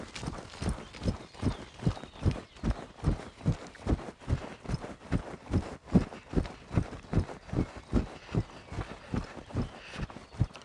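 Horse hooves beating a steady, even rhythm on an arena surface while ridden through dressage exercises such as shoulder-in along the centre line, each footfall distinct and moderately close over about ten seconds.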